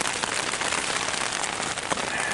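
Heavy rain pours down in a downpour on Antelope Island, a dense, loud, continuous hiss of drops pattering on a tent shell and surroundings, steady throughout with no voices.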